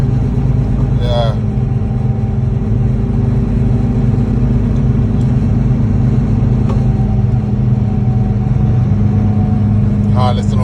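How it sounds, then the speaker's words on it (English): Steady road rumble of highway traffic streaming past on the opposite side of I-75 near Sarasota, Florida, a loud continuous engine and tire drone with a few brighter passing swells, heard from inside a moving vehicle. "Listen to traffic that come on the opposite side."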